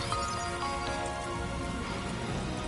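Steady rain falling in the video game Death Stranding 2, a dense, even hiss of drops spattering on surfaces that holds at a constant level throughout, with no voices.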